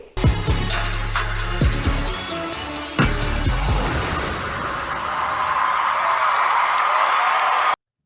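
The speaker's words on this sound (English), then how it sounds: "And the crowd went wild for their performance." Grammy awards audience roars with sustained cheering and applause after a performance, loud and broad, rising into a dense wash of crowd noise that runs steadily until it cuts off abruptly.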